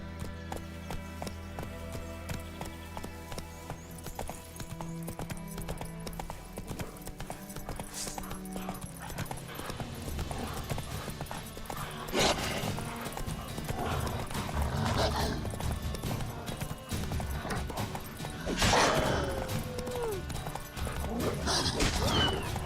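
Horse galloping in The Witcher 3 game, steady hoofbeat clip-clop running throughout at moderate loudness, with an occasional whinny, under game music and speech.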